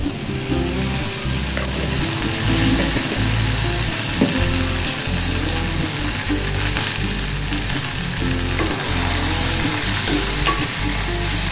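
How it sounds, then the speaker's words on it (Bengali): Tomato paste frying with a pinch of black cumin in a pan for an okra dish, a loud continuous sizzle with stirring scrapes throughout. "টমেটোটা ভাজা হয়ে যাক"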